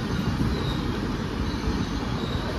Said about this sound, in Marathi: आपली ट्रेन आलेली आहे